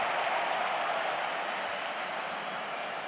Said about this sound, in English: Barca fans cheering a throw-in in their favour, almost as if it was a goal.